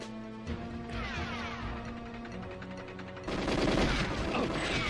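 Continuous gunfire from the GoldenEye video game rattles in rapid automatic bursts amid explosive crashes and in-game effects, growing louder and denser toward the end.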